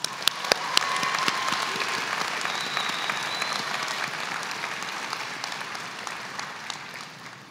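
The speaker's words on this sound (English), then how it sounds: "Please give these deserving graduates a round of applause." Graduation ceremony audience applauding for award-winning pharmacy graduates, a steady, dense wash of many hands clapping in a large hall, sustained throughout and slowly tapering toward the end.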